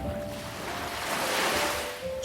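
Ocean waves washing onto the shore for a guided sleep meditation, a soft continuous surf rolling with a gentle swell in the middle, calm and steady, with no voice over it.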